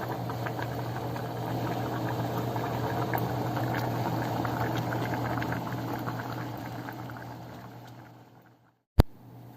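A single large blue crab boils in a pot, giving a steady, close bubbling rumble that continues for several seconds, then cuts off abruptly near the end and is followed by a sharp clunk.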